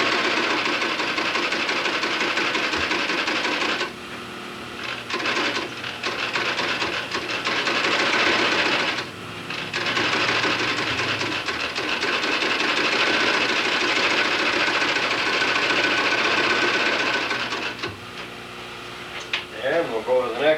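A sewing machine runs in long continuous bursts with brief pauses while stitching counter covers onto a shoe upper, the first seam placed close to the top edge; a steady mechanical whir dominates throughout.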